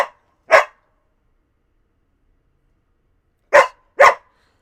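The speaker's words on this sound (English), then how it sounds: "No barking. No barking." A dog barking at home: one sharp bark, a long pause, then two quick barks close together, loud and near, with no talking.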